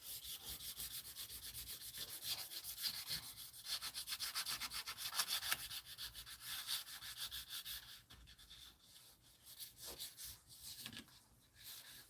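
Chrome molding for a 1984 Buick Regal being hand-sanded with 800 grit sandpaper, a soft, close, rhythmic rubbing that runs continuously and fades in intensity toward the end, with no talking.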